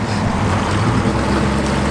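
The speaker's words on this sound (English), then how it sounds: "Cruising on the river." A motorboat cruises on a river during duck season, its engine and rushing water making a steady, loud, close drone with wind buffeting throughout and no talking.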